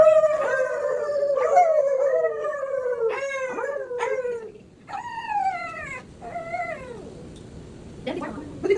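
Oreo the dog howls in a series of long, wavering, rising-and-falling cries, fairly close, with a few shorter breaks between howls and some quiet human voices in the background.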